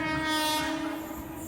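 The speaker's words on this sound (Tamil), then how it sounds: "எர்ணாகுளம் தாம்பரம் ஸ்பெஷல் ட்ரெயின் வந்து கிராஸ் பண்ணுதுங்க." A loud, sustained train horn from the Ernakulam–Tambaram special train as it crosses, heard over the steady rumble of rolling wagons, close and loud, fading slightly toward the end.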